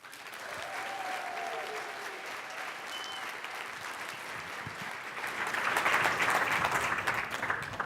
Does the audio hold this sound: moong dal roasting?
no